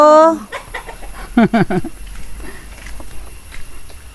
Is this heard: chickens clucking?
yes